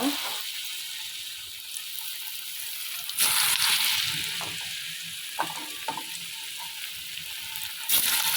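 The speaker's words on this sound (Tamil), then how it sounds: "அதில் ஒரு 4 பஜ்ஜி சுட்டுறலாம்." Betel leaf bajji frying in hot oil, a continuous close crackling sizzle with a few louder bursts and scrapes as pieces are dropped in or turned, no speech.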